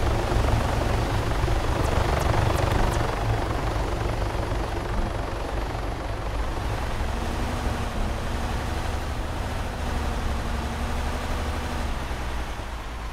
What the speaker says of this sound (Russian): нужно подождать, пока взлетит вертолет